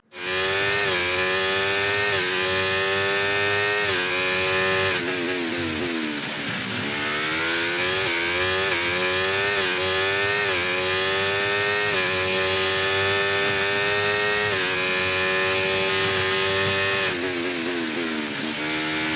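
A Formula 1 car in the F1 24 video game runs a lap, its loud, continuous engine whine climbing in pitch through repeated gear upshifts and dipping briefly under braking, with no talk.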